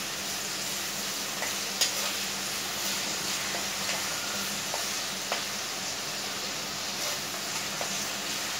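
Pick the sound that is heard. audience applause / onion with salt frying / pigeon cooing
onion with salt frying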